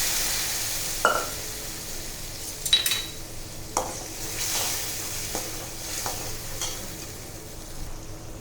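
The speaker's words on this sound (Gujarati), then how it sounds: "તો આપણે તેમાં બાફેલી અડદની દાળ નાખીશું." Boiled urad dal going into a sizzling Kathiyawadi tempering gives a steady crackling sizzle. A spoon scrapes and clinks against the pot several times at irregular intervals.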